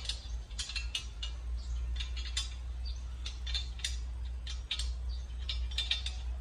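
A 12 mm wrench tightens nuts on an A150 mini corn grinder, giving steady metallic ratcheting clicks and small clinks over a low, constant hum, with no talking.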